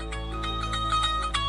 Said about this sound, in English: Phone call coming in.